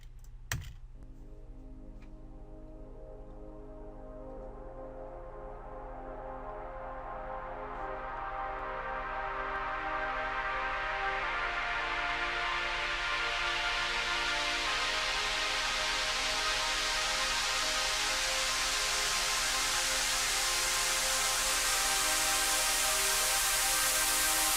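Uplifting trance synth patch with a modulated auto filter, a sustained chord-like pad whose brightness steadily opens and swells upward over about 25 seconds, growing louder with no voices.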